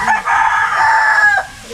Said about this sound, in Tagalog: Pasensya na kayo, maraming manok dito.